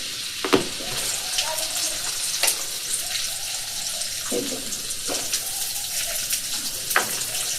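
Onion tipped into hot oil already holding mustard seeds, ginger and garlic over a wood-fired clay stove, giving a steady sizzle broken by several sharp scraping stirs.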